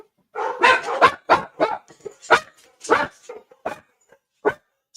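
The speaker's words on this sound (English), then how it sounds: "Dog." A dog barks in a quick irregular run of sharp, fairly close barks, about a dozen over a few seconds with short pauses between them.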